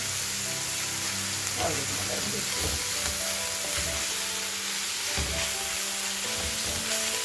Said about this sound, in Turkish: Bir 5-6 dakikada böyle kavuruyoruz.